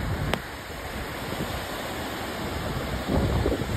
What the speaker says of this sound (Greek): Έχει αρχίσει και κάνει κύματα.